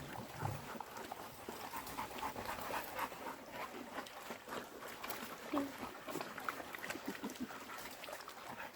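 Sled dogs at a summer camp in Juneau pant and shuffle around nearby, with steady breathy panting, occasional whimpers and movement noises, while people talk quietly in the background.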